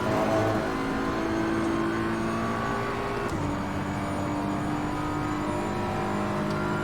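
Race car engine in Assetto Corsa Competizione held on the throttle, a steady loud drone with layered harmonic whine and a shift in pitch midway, continuous with no talk.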